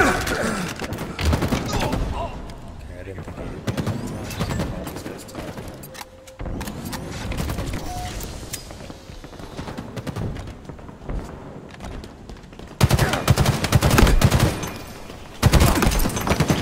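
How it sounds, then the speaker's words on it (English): Rapid bursts of gunfire in a competitive online shooter, loud and close, crackling in clusters with brief gaps and a heavier barrage near the end, layered over constant game ambience. "Nothing satisfies like a three-round burst."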